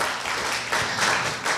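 An audience claps to welcome a guest at a university speaking contest, a dense, even burst of applause filling the hall, fairly loud and without talk.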